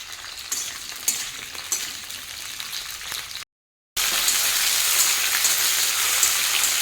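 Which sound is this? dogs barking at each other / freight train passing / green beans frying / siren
green beans frying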